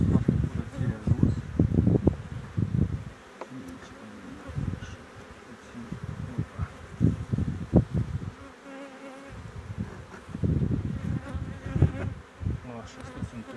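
Bees buzz around an opened hive, a dense steady drone close by with someone talking intermittently over it while he works the hive before the acacia bloom.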